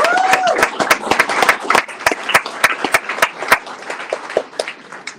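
Audience applause for Senator Fields at a Colorado Attorney General debate event, a burst of many hands clapping with sharp claps standing out, loud and close, with a brief voice or cheer at the start.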